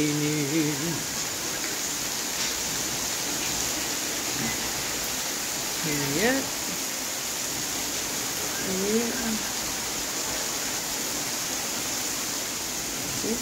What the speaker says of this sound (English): But now it is raining, guys.